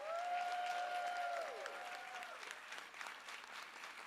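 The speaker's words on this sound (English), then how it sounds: "Let's give another round of applause to Angelica Salas." Audience at an equity awards ceremony claps in a steady, fairly quiet round of applause that fades gradually, with a brief tone ringing over the start.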